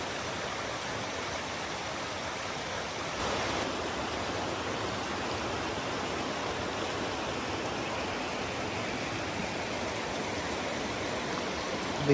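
The Lehigh River rushes below an old railroad trail, a steady broadband wash of flowing water that stays constant and fairly distant with no voices.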